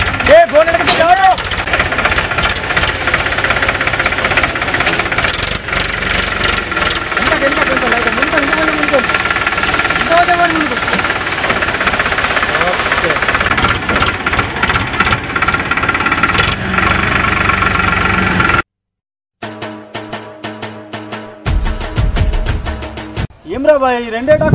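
Tractors work a farm field, their diesel engines chugging and knocking loudly and continuously under frequent loud talking, then a brief cut to silence and a few seconds of a different rumbling sound.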